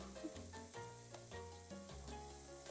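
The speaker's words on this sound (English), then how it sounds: "And now I'm going to put my tomato sauce." Tomato sauce hits a hot pan of onions and peppers for spicy sausage pasta, sizzling and frying close up with a steady hiss and sputtering pops, no talk.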